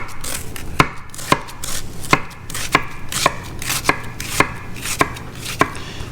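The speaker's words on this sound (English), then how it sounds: "You're just gonna start chopping right here." A knife chopping half an onion on a cutting board for guacamole, with about ten crisp, close knocks at a steady rhythm roughly every half second.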